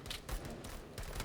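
Rapid bursts of gunfire from the Call To Arms video game battle, a quick series of quiet crackling volleys that run through the whole short moment.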